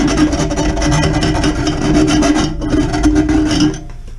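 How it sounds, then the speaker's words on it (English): Half-moon round file rasping against a 3rd gen Tacoma exhaust pipe, loud close strokes in a steady back-and-forth rhythm that stop near the end, with no one talking. "it's like a half moon shaped file. I'm using the inside of the round side"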